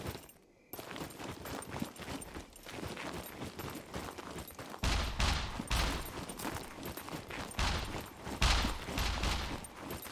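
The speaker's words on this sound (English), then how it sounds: "Are you shooting at me?" Gunfire in the survival game SCUM: bursts of shots ring out over a busy in-game soundscape, with heavier volleys around the middle and again near the end.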